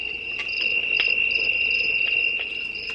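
Cricket chirping from the sleep-sound setting of a Heimvision sunrise alarm clock, a steady, close electronic insect trill with brief pulses, playing alone without talk.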